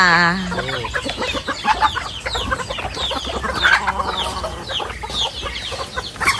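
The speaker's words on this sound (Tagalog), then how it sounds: "Papakain na po siya ng kanyang mga alagang manok." A group of chickens clucks and squawks continuously at feeding time, with overlapping calls close by and a brief rooster-like cry at the start.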